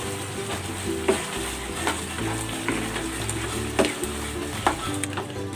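Squid sautéing in a pan with long green chilies and bird's-eye chilies just added, a loud, steady close sizzle with occasional sharp clatters of stirring, no talking.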